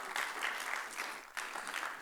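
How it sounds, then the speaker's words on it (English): Attendees at a tax seminar for chartered accountants applaud a speaker, a continuous, even wash of many hands clapping, moderately distant and heard alone without voices. "Let us have a big round of applause for our speaker, CA Komal."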